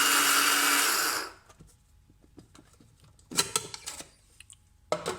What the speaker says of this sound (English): So we're going to grind this up into our Garam Masala.